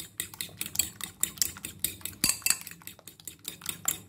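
Omelette ingredients whisked in a bowl with a utensil, a quick, steady run of clinking, scraping strokes heard up close, with one louder knock midway.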